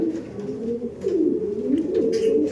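Giribaj pigeons, an imported flock, coo in soft, low, continuous murmuring rolls, close and steady with a few overlapping calls, no talk.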